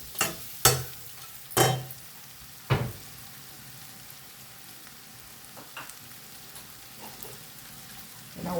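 Pieces of fried chicken tossed with salt in a hot pan, giving a few sharp scraping stir strokes near the start over a low, steady sizzle that fades to quieter frying later.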